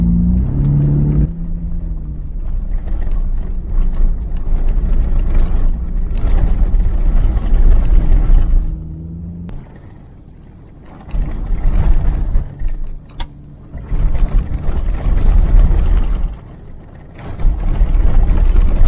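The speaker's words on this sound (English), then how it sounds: "There's nothing four-wheel driving about going over corrugations" A four-wheel drive vehicle rumbles and rattles over a corrugated dirt road in the Gawler Ranges of South Australia, a loud continuous vibrating drone that briefly eases off before resuming.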